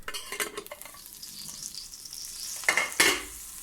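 Appam batter is poured into a hot pan and hisses in a soft sizzle, with a few scraping stirs and light utensil clinks, two louder bursts near the end standing out from the low background.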